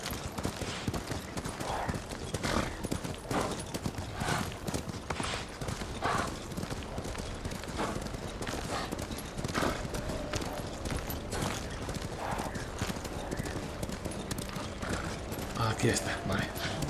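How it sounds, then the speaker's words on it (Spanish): Horse hooves clip-clop steadily in a fast, even rhythm while riding in Ghost of Tsushima on PS4, loud and continuous throughout, with game ambience and possible voices mixed underneath. "Voy a dar una pequeña vuelta porque voy con el caballo."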